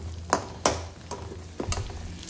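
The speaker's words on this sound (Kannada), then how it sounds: "ಇವಾಗ ನಾನು ಇದನ್ನು ನೀಟಾಗಿ ಫ್ರೈ ಮಾಡ್ಕೊತಾ ಇದ್ದೀನಿ" Cooked field beans (avrekalu) fry in a pan, with a spoon scraping and stirring in several distinct, close strokes over a low, steady sizzle.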